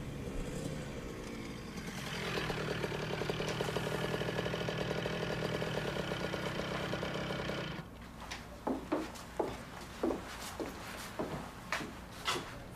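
A motorcycle engine runs in a steady, loud idling drone for several seconds, then cuts to a series of sharp, irregular revs and throttle blips.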